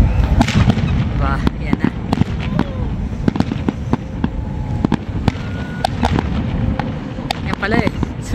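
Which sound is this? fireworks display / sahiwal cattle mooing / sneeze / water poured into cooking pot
fireworks display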